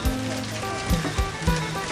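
Steady patter of rain falling on a hard surface at a construction site, with a few heavier thumps and knocks cutting through the wash of drops.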